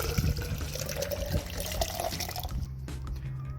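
Liquid pours steadily through a tube in a demonstration, a continuous close splashing and gurgling flow that thins out toward the end.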